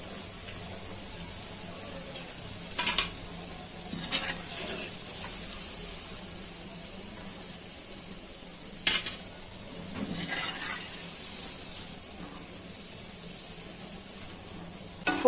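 Jackfruit bulbula pitha frying in oil over low heat, a soft steady hiss with a few faint scattered clinks and stirs, quiet and without talk.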